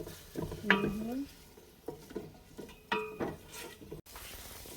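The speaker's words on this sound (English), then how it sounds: "Stir them around." A spoon stirs onions for beef curry in a pot, giving soft scraping and clinks of metal against the pan in a few irregular strokes over a faint sizzle.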